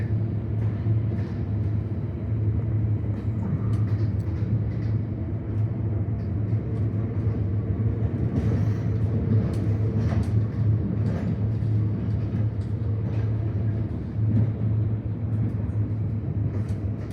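Heavy rail train on the Werribee line in Melbourne running along single track through a suburb, a steady loud rumble with a low hum and rattling wagons throughout, no voices.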